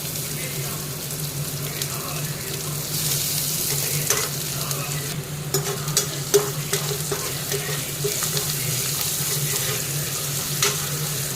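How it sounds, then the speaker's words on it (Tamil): Steady sizzling of garlic sautéing in hot oil, a continuous crackling hiss with occasional soft stirring clicks. "பூண்டோட அந்த பச்சை வாடை வர அளவுக்கு நல்லா வதக்கிட்டு"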